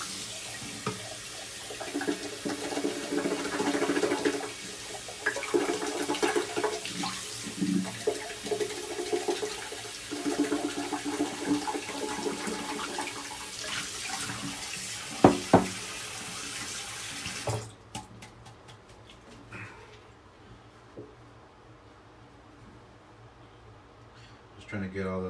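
A shaving brush is rinsed under a running tap, the water splashing steadily at close range for most of the clip before shutting off. Someone talks over it throughout.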